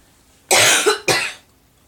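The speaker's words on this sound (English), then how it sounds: "Sorry, I'm going to cough." Two harsh, forceful coughs in quick succession, close and loud, with quiet before and after.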